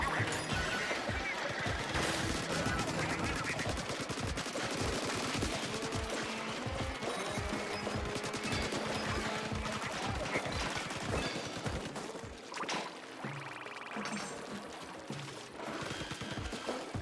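Rapid turret gunfire in the video game Splatoon Raiders, a dense stream of evenly spaced shots over busy game music and effects, loud and sustained, with players chatting over it.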